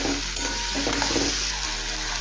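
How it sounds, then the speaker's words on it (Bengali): Close, continuous sizzle of onions frying in oil, with a few soft stirring scrapes mixed in. "পেঁয়াজটা ভেজে নেব।"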